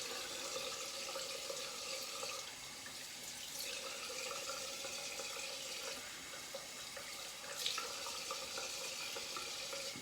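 A bathroom tap runs steadily while a face is wetted for shaving, a soft continuous hiss of water with faint splashes, moderately close and without talk.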